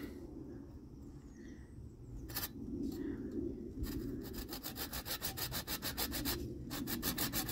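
A knife carving into the wooden grip of a hiking stick, with no vise or workbench, makes a close, rhythmic series of rasping scrapes that quicken into steady back-and-forth strokes.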